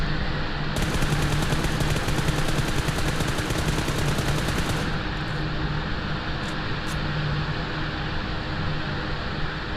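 Video game shootout with rapid automatic gunfire in dense bursts over a few seconds, then scattered single shots against a constant low hum, no voices.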